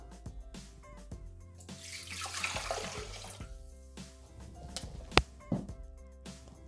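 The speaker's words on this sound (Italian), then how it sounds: "Iniziamo la ricetta mettendo all'interno del boccale l'acqua." Water pours from a tap into a Thermomix mixing bowl, a faint rushing stream that swells and fades over a few seconds, with a couple of sharp clinks near the end.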